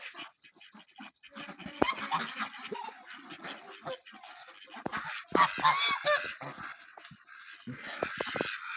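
Farm geese near a wheat field honk in loud, close, irregular bursts, some overlapping, with quieter gaps between calls.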